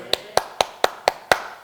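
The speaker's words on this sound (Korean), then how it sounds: "제가 지금 손뼉 쳤어요." Six crisp hand claps by a lecturer in a quiet room, evenly spaced and close, each dying away quickly.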